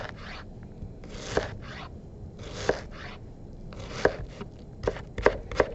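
A knife chops an onion into small pieces on a cutting board in close, uneven bursts of crisp cuts and sharp taps against the board, with no talk.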